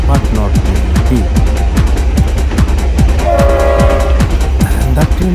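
An elevated train runs along a raised rail line over a big bridge, its wheels clattering in a steady, loud rhythm of clacks, with a drawn-out horn-like tone joining partway through.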